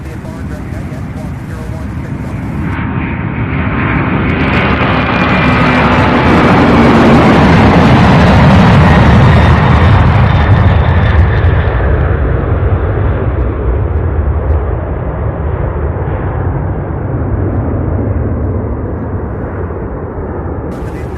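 A UPS MD-11 climbs out after takeoff from Louisville's SDF Worldport, a loud engine roar swelling to a peak midway and then slowly fading with distance while a voice talks over it.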